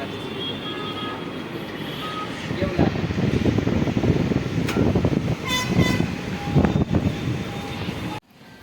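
A train runs near Surat in Gujarat, giving a steady rumble of wheels and cars with bright tonal horn or whistle notes partway through, then cutting off abruptly near the end; faint voices are mixed in.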